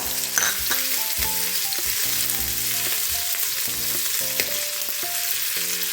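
Cumin seeds, ginger and green chili frying in hot oil for kachori filling, a steady close sizzle and crackle running throughout with no talking.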